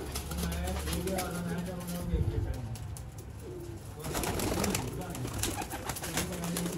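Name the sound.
pigeons cooing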